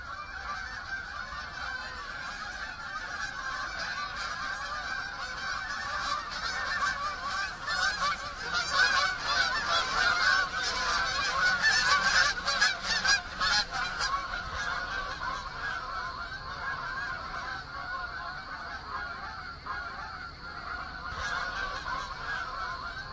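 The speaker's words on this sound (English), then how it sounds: "These geese, they're migrating now, which is interesting." Migrating geese honking overhead, a flock calling in repeated overlapping honks that swell to a loud peak in the middle and then fade as the birds pass, heard outdoors without talk.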